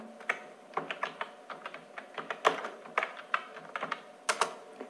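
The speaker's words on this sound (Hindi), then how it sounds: "इसके बाद लिखते हैं हम लोग पुष्पा मुंडा बिरसा मुंडा" A steady stream of close, clicky keystrokes on a computer keyboard as names are typed in, irregular in rhythm with brief pauses between words, and no voices.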